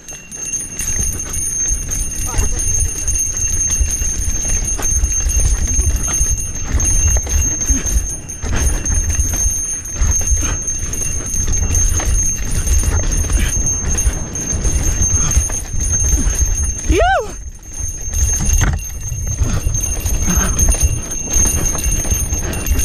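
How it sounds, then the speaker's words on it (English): A bell on a mountain bike jingles steadily during a downhill ride on the trails of Joaquin Miller Park. It sits above constant wind and tire rumble, and a brief squeal comes near the end. "I have the bell on."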